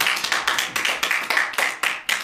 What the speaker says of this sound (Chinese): 掌声很热烈啊